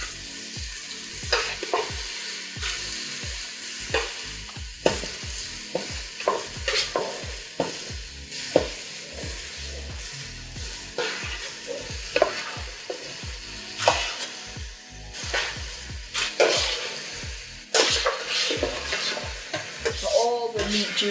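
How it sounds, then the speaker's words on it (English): Cooked bacon and diced lamb go back into a hot frying pan for Irish stew, setting off a steady loud sizzle and frying crackle broken by repeated scrapes and stirs with a utensil, all close up with no talking. "I'm going to add back into the pan our cooked bacon and our diced lamb"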